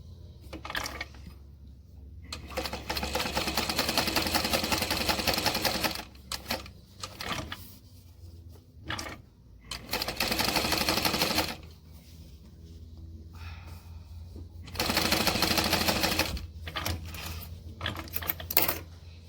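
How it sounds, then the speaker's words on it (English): Domestic sewing machine topstitching a strap sandwiched between two fabric layers, running in several bursts of rapid mechanical stitching a few seconds long, separated by pauses with quieter handling sounds. "top stitch the two together with your strap in the center"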